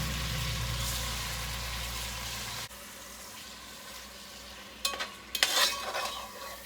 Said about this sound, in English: now while the pork is browning